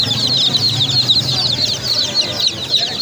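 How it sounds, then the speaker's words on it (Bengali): Native chicks at a busy poultry and pigeon market in Khalishpur, Khulna, cheep continuously in a high, dense chorus over low crowd murmur. "এটা দেশি মুরগির বাচ্চা"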